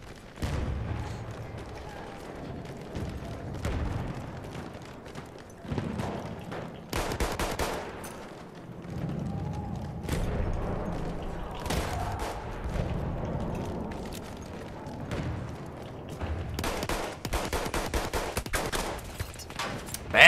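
Dense gunfire in the Battlefield 1 multiplayer shooter on PS4 Pro, with rapid machine-gun bursts and scattered single shots crackling over a busy battlefield din, steady and fairly loud throughout.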